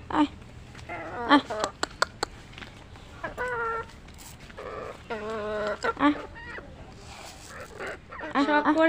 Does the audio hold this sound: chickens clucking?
yes